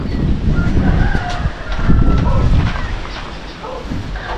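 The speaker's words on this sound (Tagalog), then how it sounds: "Tapos biglang lumakas po ang hangin ngayon." Strong, gusty wind buffeting close to the microphone, a continuous low roar that swells and eases without pause.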